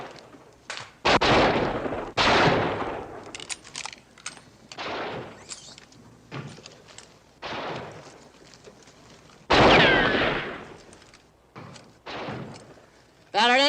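Cannon fire in a western film set at a frontier fort: several heavy, booming blasts spaced a few seconds apart, loud and close, with rumbling noise between them.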